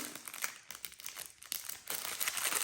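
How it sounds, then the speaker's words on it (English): Plastic packaging crinkles and crumples steadily as an item is unwrapped from a mail bag, with close, continuous rustling and brief tearing bursts. "Okay, so let's unwrap the first one."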